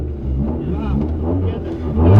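A rally car competing in a KJS autumn 2010 amateur rally event revs its engine hard on throttle, a loud continuous mid-pitched roar that climbs at the end, heard from inside the car.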